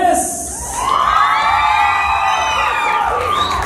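An audience at a norteña dance contest in Fort Worth cheers for a dancing couple: loud crowd noise with shrill whoops and children's shouts swelling and holding throughout.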